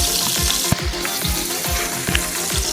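Feta pasta gravy sizzles and fries in a pan while being stirred, steady close sizzling with rhythmic scraping strokes of the spoon about every half second.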